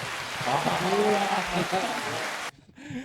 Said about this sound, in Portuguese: Salva de palmas, né, para os nossos convidados